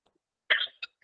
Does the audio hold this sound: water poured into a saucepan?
no